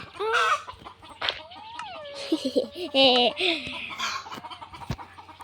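Minecraft chickens cluck repeatedly in short bursts, mixed in with a person talking and giggling over the game sounds.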